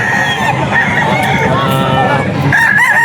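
Roosters crow repeatedly and chickens cluck at a busy, loud poultry market in Bocaue, with faint human chatter in the background.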